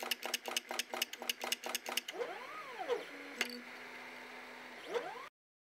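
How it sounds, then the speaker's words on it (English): Homemade dot matrix printer built from a converted 3D printer, rapid rhythmic tapping of dots followed by rising and falling stepper motor whines and a sharp click, close and alone. "If you enjoy watching machines doing their work, you will love this dot matrix printer."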